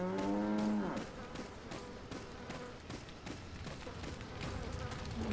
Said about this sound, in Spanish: Una vaca.